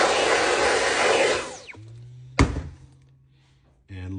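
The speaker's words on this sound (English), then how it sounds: "I figured there'd be some dust, so I got my vacuum ready." A vacuum cleaner roars loudly while sucking up drilling dust, then winds down with a falling whine, followed by a sharp thunk and a low hum before the motor kicks back on.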